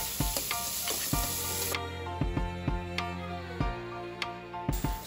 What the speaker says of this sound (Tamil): இதை சேர்த்துட்டு நல்லா ஹை ஃப்ளேமில் ஒரு 1 or 2 மினிட்ஸ் வந்து நல்லா வதக்கி விட்டுருங்க